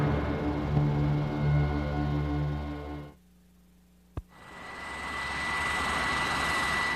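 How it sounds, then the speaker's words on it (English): An A-6 Intruder jet lands aboard an aircraft carrier with a loud, steady engine roar that cuts out abruptly. A single sharp thump of the arrested landing follows, then the engine noise swells back up. "On this attempt, our pilot gets aboard with a perfect 3-wire."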